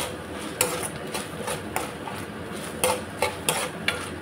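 Ginger garlic paste fries over low heat in a pan for a coastal crab ghee roast, a soft steady sizzle broken by sharp, evenly spaced taps and scrapes of a spoon against the pan, close by.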